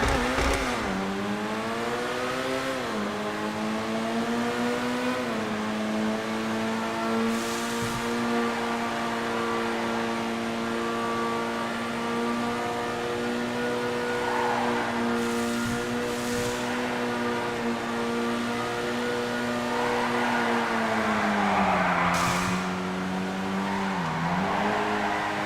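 A Chevrolet Taipan supercar drives at length with a steady, loud engine drone. The pitch climbs and falls as it revs and shifts, and occasional tire squeals and skids cut through.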